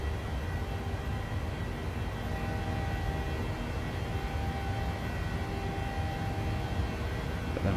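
Boeing 737-600 engines climbing out after takeoff from San Jose in a PMDG flight simulator, a steady, loud, broadband jet roar and hum that holds constant throughout with no talk.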